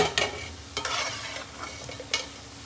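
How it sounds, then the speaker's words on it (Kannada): Jamun frying in oil makes a soft sizzle, faint and close, with a few sharp scraping and clinking stirs breaking in at irregular moments. "ಹೀಗೆ ಎಲ್ಲ ಜಾಮೂನನ್ನು ಹುರಿದು ತಗೊಳ್ತೀನಿ."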